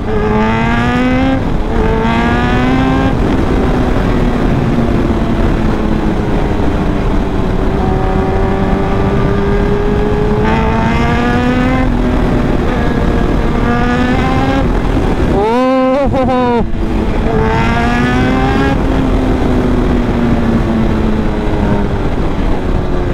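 A powerful superbike's engine revs repeatedly while riding, rising through the gears in loud climbing whines with sharp shifts and a brief drop in between, close and dominant throughout.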